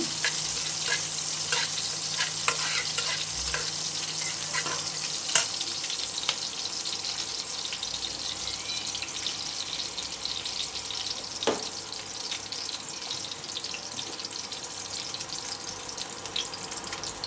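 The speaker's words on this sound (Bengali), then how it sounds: "আমি ইন্ডাকশনে কড়াইয়ে বসিয়ে দিচ্ছি আর পেঁয়াজগুলো ভেজে নিতেছি" Onions fry in a wok on an induction cooker with a steady, close crackling sizzle, scattered pops and occasional utensil clinks, and no voices.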